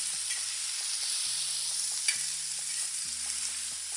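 Urad dal crackles and hisses as it hits hot oil, a steady close sizzle with faint stirring taps, no voices.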